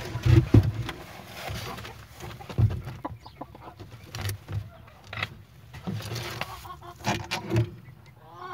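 Soft, intermittent clucking from a hen close by with a newly hatched chick, with scattered quiet rustling and low murmurs between the calls.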